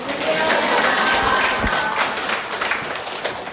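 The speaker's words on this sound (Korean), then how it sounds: "박수로 맞이하시겠습니다" A church audience gives sustained, dense applause to welcome a pastor before a sermon, the clapping loud and even, then tapering slightly toward the end, with faint voices mixed in.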